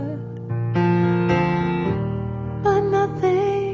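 A DRM digital radio broadcast plays cleanly despite an interfering station on the same frequency, giving clear, loud program audio with sustained tones that shift in steps and no audible hiss or interference.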